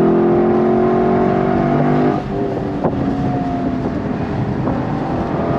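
2023 Lexus LC 500 V8 engine under full throttle through the ten-speed gearbox, a loud steady roar climbing in pitch, dipping briefly at a shift, then pulling on again with wind noise.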